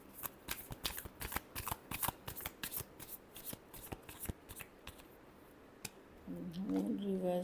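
Tarot cards being shuffled by hand, a quick run of crisp riffling snaps and flicks close to the mic, easing off near the end as a voice begins speaking.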